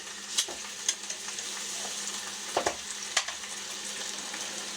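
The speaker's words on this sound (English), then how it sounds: "Take our tongs here, start flipping this tuna steak so we don't burn it" Tuna steak sizzling in a cast iron pan, a faint steady hiss broken by a few sharp clinks and scrapes as tongs flip it, close but quiet, no speech.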